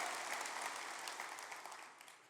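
Keynote audience at the Ignite '19 conference applauds, a dense, steady wash of clapping that sustains throughout and tapers slightly toward the end, with no voices over it.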